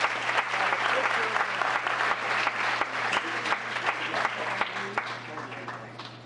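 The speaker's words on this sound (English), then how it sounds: "So let's give them one more round of applause for all that they do." A town council meeting audience gives a sustained round of applause for the town's safety groups, dense steady clapping from many hands filling the room over a low electrical hum.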